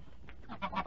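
Goose honking as a radio drama sound effect, a few short nasal squawks building in loudness over less than a second, heard alone.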